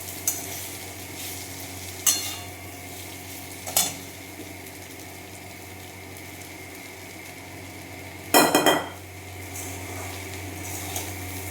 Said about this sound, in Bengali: এবার চিড়েটা দিয়ে দেবো।